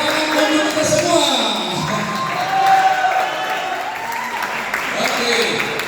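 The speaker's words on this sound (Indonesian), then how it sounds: "Tepuk tangan untuk kita semua." Seminar audience of students claps together in a sustained, fairly loud burst, with voices calling out and chatter mixed through the clapping.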